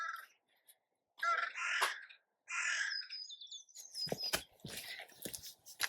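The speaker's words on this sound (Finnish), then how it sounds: "Variksetkin huutelee." Crows cawing outdoors beside a garden flower bed, several harsh calls in separate bursts with gaps between them, followed by chirps and sharp clicks nearby, with no talking.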